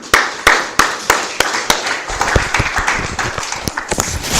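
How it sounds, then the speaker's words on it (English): Audience at an education forum claps in sharp, separate beats at first, then breaks into denser, quicker applause, close and fairly loud. "let's again clap for him."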